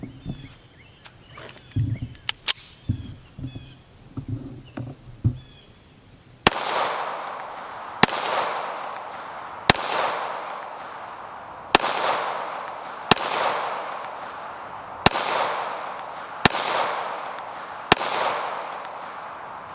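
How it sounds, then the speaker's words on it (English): Sig Emperor Scorpion 1911 pistol firing steel case ammunition: after some quiet handling noise, eight sharp, loud shots ring out at steady intervals of roughly two seconds, each followed by a brief decaying echo. "Let's load up again, see if I can't do a better job."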